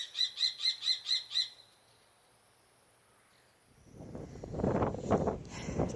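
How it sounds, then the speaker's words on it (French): A quick series of about seven sharp, high repeated kee calls from a common kestrel, followed by silence and then gusty wind rumble. "Un faucon cresserelle."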